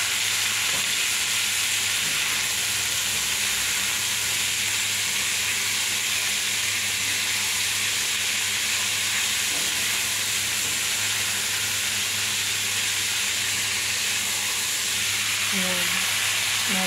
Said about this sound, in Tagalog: Gisa-gisa muna natin.